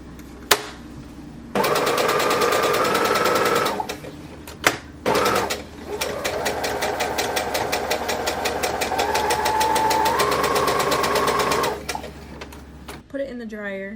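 A home sewing machine stitches a half-inch border on a beginner fabric gift project in loud, fast mechanical bursts, running several seconds at a time with short pauses between runs.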